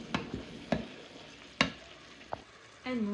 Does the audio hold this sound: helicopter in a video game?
no